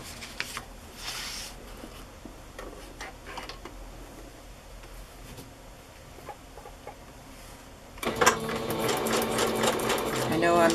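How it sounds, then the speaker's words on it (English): Sewing machine stitching lace onto a paper journal page in a craft collage, a loud steady mechanical whir starting abruptly after quieter handling sounds and speech. "And I will sew that together."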